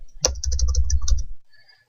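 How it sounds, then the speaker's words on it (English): Fast typing on a computer keyboard during medical billing charge entry, a quick close run of clicking keystrokes lasting about a second before falling quiet. "Notice how I'm just typing over that since I made a mistake."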